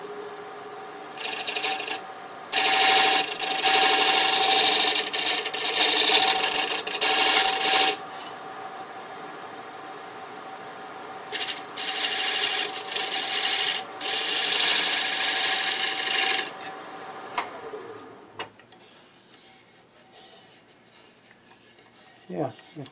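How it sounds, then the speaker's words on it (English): A scraper works a bead on a wooden platter spinning on a lathe, giving bursts of harsh scraping and rasping with pauses between passes and a steady motor hum underneath. "scraper, just clean that bead up a little bit."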